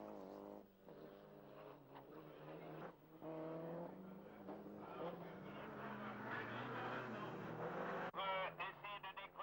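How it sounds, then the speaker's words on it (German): A 1991 Rallye International du Valais rally car runs a lap on a narrow course, its engine droning steadily and rising in pitch through the gears, heard at a distance with faint commentary underneath. "Philipp Roux auf seiner zweiten Runde"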